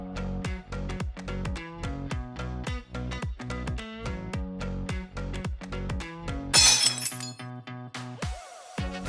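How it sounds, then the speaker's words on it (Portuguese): A household window pane bursts on its own as it is being closed. A sudden loud crash and spray of breaking glass cuts through rhythmic background music near the end, followed by brief tinkling. "Do nada o vidro estourou, eu só ia fechar o vidro, ele estourou."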